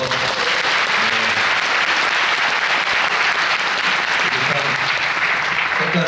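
An audience claps continuously and at full strength at a concert at the 인춘음악회. The steady, crowded applause fills the whole stretch.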